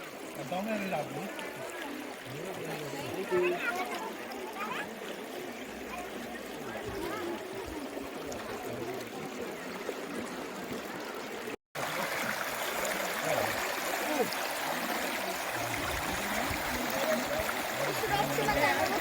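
Clean water runs over rocks in a stream at Patalpani, a soft steady flowing rush heard at a distance. Someone talks over it throughout, with a brief dropout partway through.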